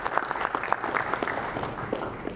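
A round of applause at a golden jubilee celebration marking fifty years since the organisation's founding, with scattered hand claps rising and falling under a roomy hall ambience over a couple of seconds.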